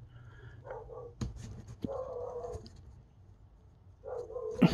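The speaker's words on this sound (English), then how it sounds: "Dog bark." A dog gives a few short barks and whimpering yelps at moderate distance, separated by quiet gaps, with no talking.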